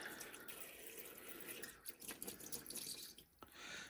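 Liquid pours into a Hoover U2190 vacuum cleaner from a new bottle at full strength, giving a steady trickling, splashing gurgle with brief dips throughout.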